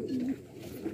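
A Kala Cheena pigeon in Rajanpur gives a soft, low coo, one drawn-out note followed by a shorter one, close by.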